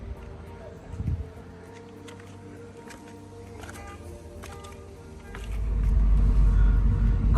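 Car cruising along a forest road in Sequoia National Park, a steady low road rumble and engine hum that swells louder and closer toward the end, with a brief bump early on.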